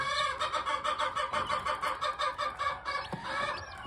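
A chorus of four-day-old American Gamefowl chicks peeping and cheeping continuously, high and busy, with overlapping calls throughout and no talking.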